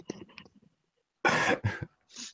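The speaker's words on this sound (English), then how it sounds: "I got one of those coughs that it hurts, like hurts really bad to cough" A painful chest cough: after some faint scattered sounds, two harsh, close coughs come in quick succession, then a softer breathy exhale.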